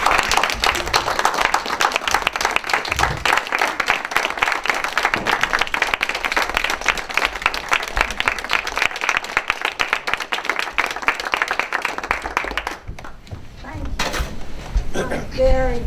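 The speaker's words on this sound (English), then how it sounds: "I'm going to ask you to join me in giving her a very welcoming round of applause" Sustained audience applause at a press conference launching a jobs and justice day march, dense steady clapping with some clinking for about twelve seconds, then fading as a speaker begins talking.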